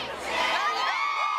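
Crowd cheering and whooping at a Hollywood Walk of Fame star ceremony, a dense wall of excited shouts and high-pitched cheers, steady and loud throughout.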